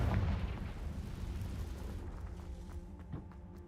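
A Confringo fire spell explodes in the video game Hogwarts Legacy, a loud, broad booming blast that opens the clip and rumbles as it fades, followed by a few lighter crackling pops.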